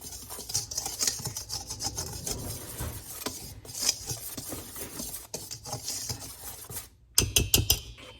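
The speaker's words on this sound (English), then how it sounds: "my next move is with a whisk. And we just lovely whisk that all together." Bread ingredients whisked together in a bowl, a steady scraping, rubbing rasp of the whisk running close and continuous with no talk, ending in a brief pause and a sharper clatter.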